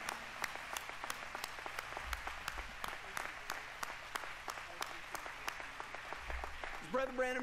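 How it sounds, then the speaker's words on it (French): Church congregation clapping during a French-language service, a brisk, fairly even run of hand claps from a modest group, with a voice briefly audible near the end. "Applaudissez pour vous-même."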